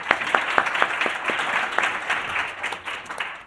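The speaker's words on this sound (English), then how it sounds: "I'm used to louder applause, but it's okay." Applause from a corporate gathering audience, a continuous crowd clapping with several sharp claps standing out near the front, fading slightly toward the end.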